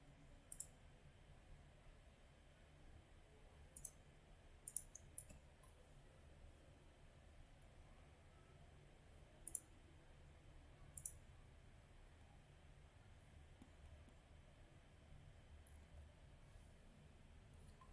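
A computer mouse clicks sparsely during network configuration, a handful of sharp, quiet clicks spread over a near-silent room, some in quick pairs or triples.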